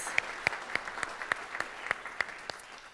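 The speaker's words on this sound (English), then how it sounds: "let's thank Sarah and Patty with a round of applause" Sparse, rhythmic clapping at a community foundation high school scholarship reception, about ten distinct claps in a slow even beat, fairly faint and without talk.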